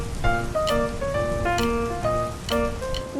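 Rain falls steadily as a sound effect in a children's story, a soft patter that runs under gentle melodic music with bright chime-like notes throughout.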